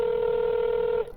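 A telephone rings out during a 911 call: a single steady electronic tone lasting about one second, alone, then cut off.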